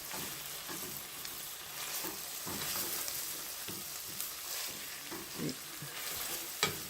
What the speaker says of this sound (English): See, it's starting to sizzle and get nice.